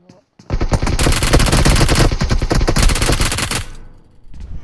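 Sustained rapid automatic gunfire in PUBG Mobile, a loud unbroken burst of shots lasting about three seconds before cutting off, then quiet game ambience.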